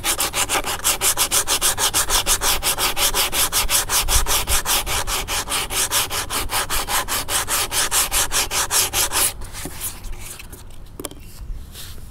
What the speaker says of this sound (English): I'm actually done with the sanding